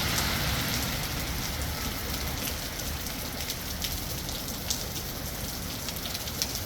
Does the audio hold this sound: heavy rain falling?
yes